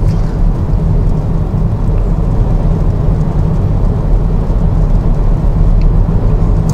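Low steady rumble of a 2023 Renault Espace accelerating on adaptive cruise control, heard from inside as a continuous road and engine drone with no talk.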